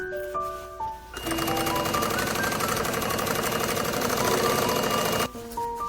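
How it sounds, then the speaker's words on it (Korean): A home sewing machine runs steadily for about four seconds in a rapid, even mechanical whir with fine stitching clatter, starting and stopping abruptly, with a faint tone in the background. "재봉틀 앞에 앉았습니다"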